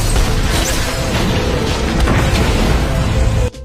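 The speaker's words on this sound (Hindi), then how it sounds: "बढ़ते जलदाब ने जहाज के अंदरूनी उपकरणों को तोड़ दिया और सिलसिलेवार विस्फोट होने लगे।" Explosions go off one after another inside a sinking ship in the film Poseidon, a loud, continuous roaring rumble with heavy bursts that cuts off sharply just before the end.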